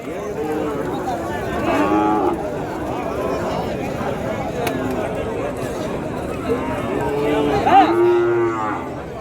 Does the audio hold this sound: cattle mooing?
yes